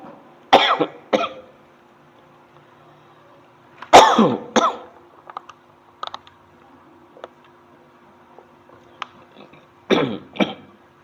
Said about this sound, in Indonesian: terbatuk-batuk lagi.